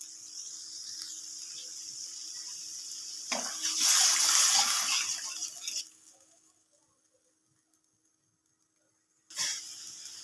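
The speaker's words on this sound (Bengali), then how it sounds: "এবার মশলার মধ্যে দেবো পরিমাণ মতো জল।" Water poured into a pan of fried spices for a Bengali fish curry, a steady close splashing pour lasting a couple of seconds, then quiet before a brief second pour.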